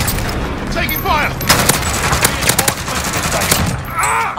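Gunfire in Call of Duty Warzone on Rebirth Island, loud rapid bursts of automatic fire crackling close by, repeated volleys with brief gaps, and game voice lines in between.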